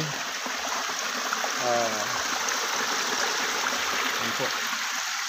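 Water flows from springs near a waterfall after rain, a steady close rushing trickle that continues throughout, with a brief bird call or voice-like tone rising over it partway through.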